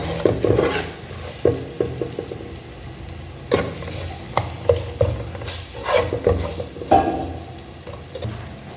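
Spices and curry powder sizzle in oil for a Hogenakkal-style fish curry, with repeated scraping stirs and clinks of a spoon against the pan over a steady close frying hiss, and no talking.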